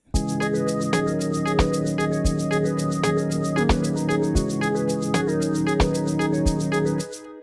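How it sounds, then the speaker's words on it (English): A bright, synthesized trumpet melody plays alone in an amapiano track, with steady repeated notes and a regular rhythmic pulse, clear and moderately loud. "So let's play the trumpet for you,"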